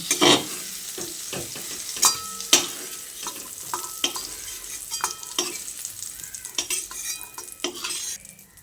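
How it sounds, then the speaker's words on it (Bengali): Eggplant fries lightly in oil with a soft, steady sizzle, broken by repeated clinks and scrapes of a utensil stirring in the pan. No one speaks. "বেগুনগুলো আমি হালকা করে ভেজে তুলে নিচ্ছি"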